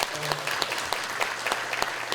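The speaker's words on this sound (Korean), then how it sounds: "여러분 박수 한번 보내주세요." Audience applause at an education forum on future schools, loud steady clapping from a room full of people with sharp individual claps standing out.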